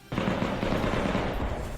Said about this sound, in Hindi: वहां शहर के भीतर हर तरफ बमों के धमाके और गोलियों की तड़तड़ाहट सुनाई दी